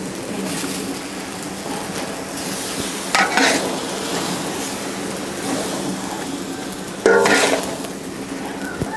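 Rice vermicelli cooked in coconut milk is stir-fried with a large ladle, giving a steady sizzle and two louder scraping stirs against the pan.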